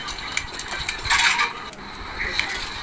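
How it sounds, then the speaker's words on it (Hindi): Dishes and metal utensils clatter while being washed at a home sink, a busy string of close clinks and scrapes with a louder burst of rattling midway, no talk. "ये मेरे बर्तन पड़े हैं, मैं अब बर्तन कर रही हूँ"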